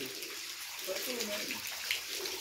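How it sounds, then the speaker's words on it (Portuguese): Water falling like a small waterfall inside a large sandstone cave, a steady splashing hiss throughout, with a voice faintly present. "Caindo a água aqui como uma cachoeira."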